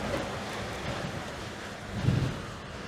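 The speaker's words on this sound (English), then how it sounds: "got the wind right in my face" Headwind buffeting a microphone while cycling on a road, a continuous low rumbling whoosh with gusty swells and one stronger blast near the end, no voices.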